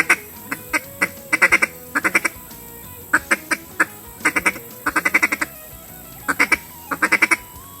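Duck call blown by hand to imitate a small group of feeding ducks, giving clusters of short quacks in quick bursts of three to six, repeated with brief pauses, close and clear with no talking.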